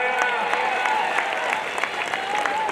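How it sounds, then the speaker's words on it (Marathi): Crowd applause at an outdoor wrestling match (kusti) in Chandur, steady scattered clapping from a distant crowd, continuous and fairly even, with a faint hint of voices mixed in. "टाळ्या करा की टाळ्या"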